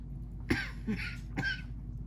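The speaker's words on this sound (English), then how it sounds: "Sorry, I can't help my cough." Three short, rough asthmatic coughs close by, spaced unevenly over a couple of seconds in an otherwise quiet room.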